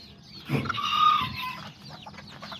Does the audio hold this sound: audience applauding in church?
no